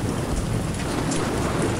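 Heavy rain pours down in a dense, constant hiss with a low rumble beneath it, loud and unbroken throughout, no speech over it.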